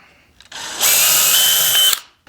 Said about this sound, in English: And then I'm going to put a couple screws in here.